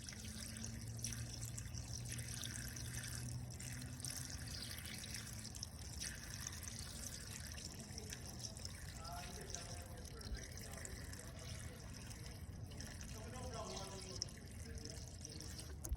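Water from a stucco color-matching job being poured out, a steady faint splashing trickle with gurgles and drips throughout, no speech over it.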